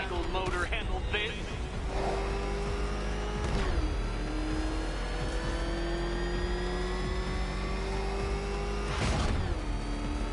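The Batmobile's engine revs and roars in Batman Arkham Knight, loud and continuous with rising and falling pitch sweeps as it accelerates, with a game character speaking over it.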